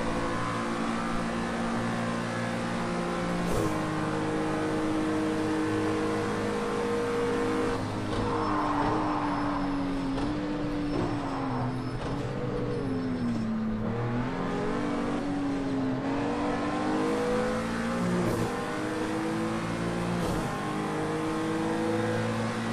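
A 2017 Acura NSX engine revs steadily in the racing game Project Cars 2, with loud continuous engine tone rising and falling through paddle-shifted gear changes for the whole stretch, with no talk.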